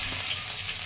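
Chopped garlic hits hot oil in a pan while cooking a leftover rice dish, producing a steady, close, bright sizzle with no talk over it.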